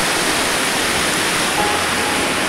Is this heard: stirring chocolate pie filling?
no